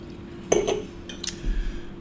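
A couple of bright glass clinks close by, followed by faint rattling, like glasses touched together for a toast.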